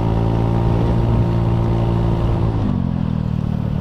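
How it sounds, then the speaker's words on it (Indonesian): A Honda Beat FI scooter engine roars steadily and close up on a ride, its tone holding before dropping to a lower pitch partway through, loud and continuous with no speech. "kita coba gas aja dulu lah."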